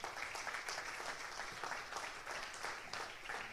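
A church congregation applauds in a dense, steady patter of clapping that holds at an even level throughout, fairly distant and without voices on top.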